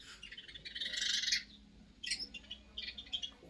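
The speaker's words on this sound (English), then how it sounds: "Can you hear the birds?" Birds chirp outdoors near a porch in bright, high trills, a long burst followed by shorter calls, with quiet ambient background.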